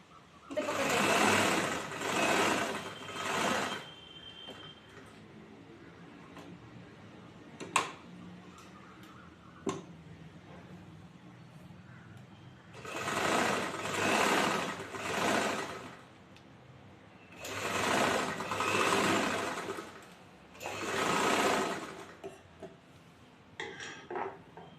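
A sewing machine stitches chudithar fabric in several loud, sustained runs of rapid whirring, separated by quiet pauses with occasional sharp clicks as the cloth is turned.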